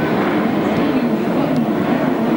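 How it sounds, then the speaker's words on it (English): A helicopter passes over a grasstrack racing circuit, heard as a steady, continuous rumbling drone of moderate loudness, with no clear beat or change across the short stretch. "I see that helicopter going across again"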